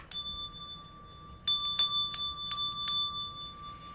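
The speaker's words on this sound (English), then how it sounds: "so I'm going to ring my bell." A small handheld bell rings clearly indoors: one early strike, then a quick run of four or five bright rings after a short pause, each leaving a lingering tone.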